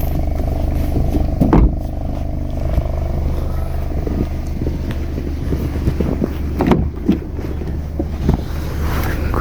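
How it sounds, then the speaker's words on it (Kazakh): A car engine idles steadily after installation of a 54-litre LPG gas cylinder, with a low continuous hum, some wind buffeting and occasional louder knocks. "Көлік таза оталып тұр."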